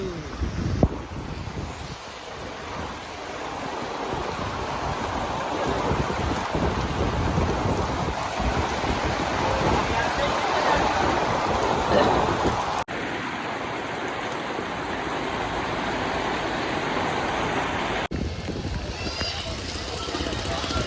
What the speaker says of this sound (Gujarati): વરસાદ વધતો જાય છે